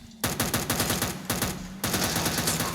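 Rapid automatic gunfire from a gun in a modded Minecraft game rattles in quick bursts, pausing briefly twice before resuming, loud and close with a steady low hum underneath.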